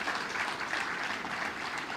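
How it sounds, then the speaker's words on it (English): Crowd applause at a launch event addressed by President Ruto for content creators, a steady, moderately loud wash of many people clapping with gentle rises and falls. "let's put a round of applause to Ababu na Mwamba, my CS for Sports and the Creatives"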